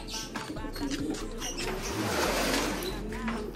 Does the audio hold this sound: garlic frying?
no